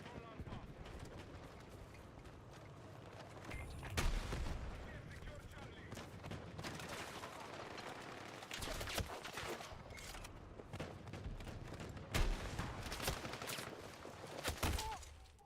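SMG fire sounds in Battlefield 6, with repeated sharp bursts and shots scattered over a continuous battle rumble while a person talks throughout.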